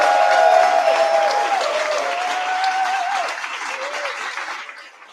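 A large crowd at the ClimateLaunchpad 2025 Global Grand Final applauds and cheers, with dense steady clapping and a whistle ringing out before the noise gradually fades.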